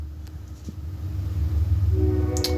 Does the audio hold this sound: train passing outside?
yes